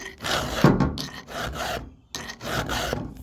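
A hand file rasping across the rounded cutters of a sharpened chainsaw chain on an 880 saw, several short close scraping strokes with brief pauses between them, no voices.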